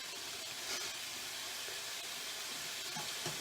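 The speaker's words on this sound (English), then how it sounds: "So we're going to cook down these apples and onions until the onions are sort of see-through" Apples and onions cook down in a hot pan, giving a steady, close sizzling hiss with faint popping and no one speaking.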